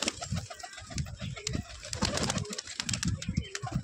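Pigeons cooing steadily in a low, throaty repeated rhythm, with occasional wing flaps and a busy outdoor background, close and continuous for the whole stretch.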